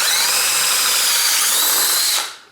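A power drill bores a 5/16 inch hole through a seized bicycle seatpost, giving a loud, steady high-pitched whine that lasts about two seconds before it spins down and stops.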